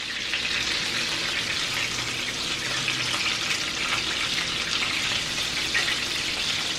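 Ground turkey burgers frying in a pan, giving a steady, close, loud hiss and sizzle with no pause, while a spatula turns the patties.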